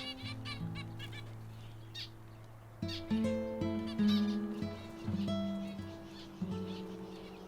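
Finches in an aviary calling over one another, with steady sustained tones and repeated short chirps that become busier and louder in the second half, fairly close and with no talk.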